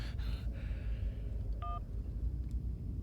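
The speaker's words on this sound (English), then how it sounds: "How am I getting a phone call?" A phone rings in the game Syberia while the character is underground: a single short two-tone electronic ring over a steady low ambient rumble, with no talking.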